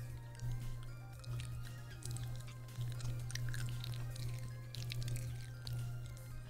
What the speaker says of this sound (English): Do you hear that crunch? That's a bug.